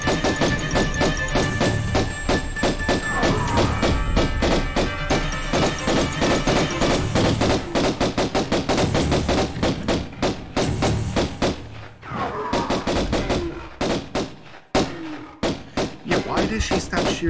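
Lara Croft's pistols fire in rapid, continuous volleys in the 1996 Tomb Raider game, loud and dense with thuds mixed in, pausing briefly near the end before resuming, while a voice talks intermittently underneath.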